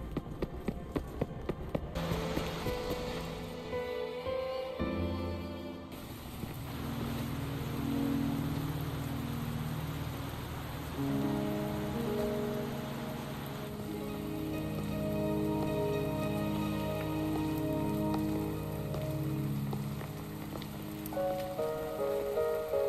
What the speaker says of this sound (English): Trapped here by the rain?